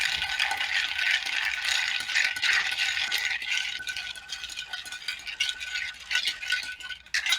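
Ice rattles hard inside a cocktail shaker as a drink is shaken, a loud, steady, close clatter that runs almost the whole time and loosens toward the end, with no voices over it.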